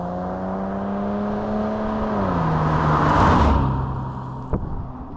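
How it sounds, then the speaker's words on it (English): Mid-engine flat-six of a roughly 20-year-old Porsche Boxster, a steady drone with clear harmonics that dips in pitch partway through and then surges louder, with a sharp click near the end. "You know, the sound of that mid-engine behind you, that flat six, it's like nothing else I've driven before."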